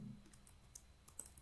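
Questions being typed on a computer keyboard: faint, sparse keystroke clicks, quiet and close, with no voices.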